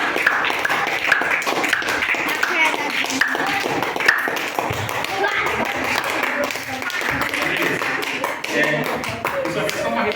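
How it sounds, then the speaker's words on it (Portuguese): A church congregation applauding, with steady mixed clapping carrying on under voices and general room noise for the whole stretch. "palmas para ele."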